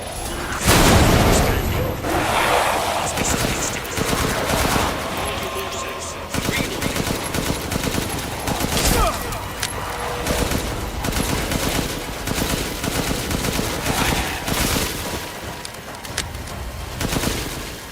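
Gunfire in the survival game Sons of the Forest, rapid repeated shots crackling through much of the stretch, loud and close, with a person talking over it.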